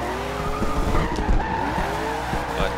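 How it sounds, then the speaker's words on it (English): A Bumblebee Camaro Z/28 drifts in Forza Horizon 2, its tires squealing and skidding continuously over a loud, revving engine for a few seconds. "I'm having a lot of fun drifting it"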